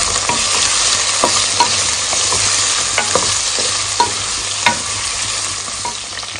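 Drumstick vegetable fries with salt and turmeric in a pan, giving a constant loud sizzle, with sharp spatula scrapes and stirring clicks at irregular intervals and no voices.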